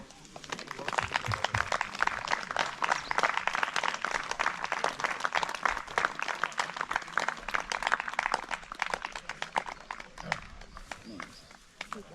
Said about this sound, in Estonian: Oh, aplaus!